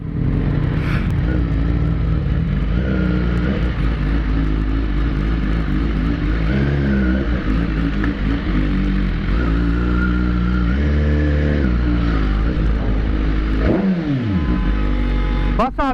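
A motorcycle engine, one of a BMW S1000RR or Yamaha MT-09, revs hard on the throttle with rising and falling pitch, loud and close, while voices talk over it.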